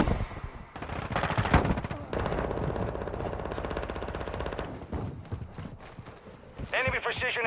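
Rapid automatic gunfire in a shooter video game on PS5 rattles loudly for several seconds and then cuts out. Spoken radio-style callouts run over the shooting.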